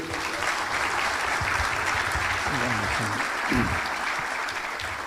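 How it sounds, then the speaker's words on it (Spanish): An audience at an annual business conference on building a fairer society applauds steadily throughout, a dense, even wash of clapping with a few voices calling out under it. "muy bienvenidos, un aplauso para ellos."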